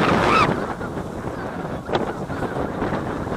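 Geese honk during a goose hunt in an open field, a brief call near the start followed by steady wind buffeting the microphone.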